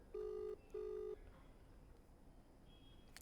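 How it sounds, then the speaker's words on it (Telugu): A WhatsApp call on a phone rings back with two steady electronic tones, each about half a second long with a short gap between them, followed by quiet background hiss. "ప్రస్తుతం వాట్సాప్ కాల్ చేస్తున్నాను, రింగింగ్ అనే వస్తుంది, రింగ్ అవుతోంది"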